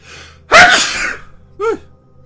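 One loud, sharp sneeze from a person who is nearby, preceded by a soft intake of breath and followed by a brief voiced sound.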